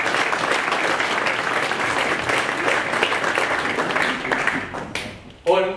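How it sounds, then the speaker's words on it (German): Sustained applause from an audience at a mayoral candidate's town meeting in Korbach, steady dense clapping for about five seconds before fading, with a brief voice cutting in at the end. "Das ist mal ein Applaus für den jungen Mann."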